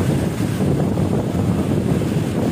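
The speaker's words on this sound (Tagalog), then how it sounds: "malakas na yung hangin" Strong typhoon wind roars steadily against the microphone on a Bohol island under signal number 3, a dense continuous rush with no voices.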